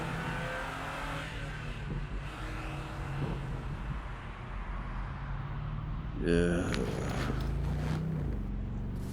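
A car that had been idling drones steadily, then its engine revs up sharply as it accelerates away, with a narrating voice speaking over the engine noise throughout.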